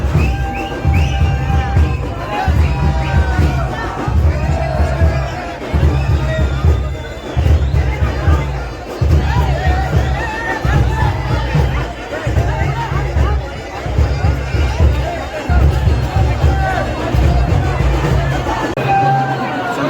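A dense crowd of devotees accompanies a palanquin procession at the Mahad chabina jatra of Shri Vireshwar Maharaj. Continuous close hubbub and overlapping chatter are heard, with a low rhythmic drum-like pulse repeating underneath.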